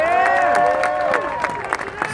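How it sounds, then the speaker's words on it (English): A crowd claps and cheers at an outdoor summer festival in Flushing Meadows, Queens, a dense burst of applause under an amplified voice that fades toward the end. "Give her a round of applause."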